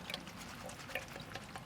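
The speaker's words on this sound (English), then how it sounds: "Normally you will run this under your sink, under your faucet" Water from a kitchen faucet runs over fresh spinach leaves, giving a faint, steady trickling splash with light drips scattered throughout.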